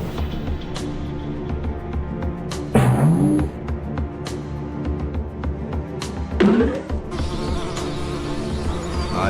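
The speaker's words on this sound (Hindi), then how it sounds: "ये मधुमक्खी तो मुझसे भी नहीं डरे" Cartoon bees in a jungle swarm with a constant loud, close buzzing, while two sharper whooshing swoops cut through at about three and six seconds. No one speaks.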